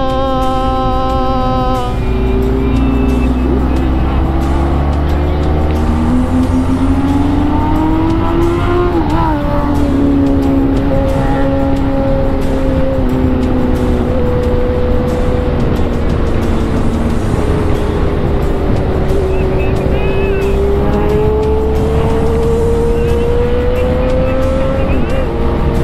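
Loud engine of a BMW R1250 GS motorcycle, a strong close drone whose pitch rises and falls as it revs, running unbroken throughout.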